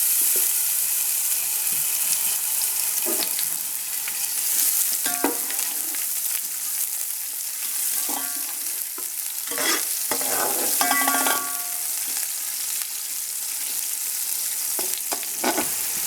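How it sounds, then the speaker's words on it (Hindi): A medium sliced onion fries in hot oil for chicken pulao, a steady bright sizzle running throughout with scattered scrapes and clinks from stirring, close and loud, no voices. "इसके बाद आपने एक मीडियम प्याज स्लाइस किया हुआ इसमें आपने डाल देना है और उसको पकाना है।"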